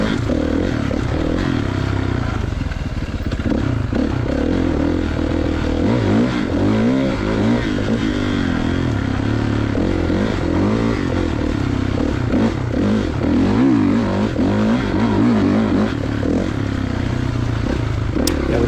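A 2016 Kawasaki KX450 dirt bike ridden on an off-road track at Johns Peak OHV, its engine droning and revving continuously up and down through gear changes, loud and close with rattling clatter and wind buffeting.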